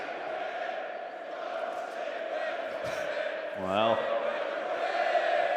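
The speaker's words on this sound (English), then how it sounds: "nothing I enjoy more than chanting from the crowd, and they have come to life here in support of FaZe Vegas" A Call of Duty League Major II esports arena crowd chants in support of FaZe Vegas, a loud, steady roar of massed voices with a commentator briefly speaking over it.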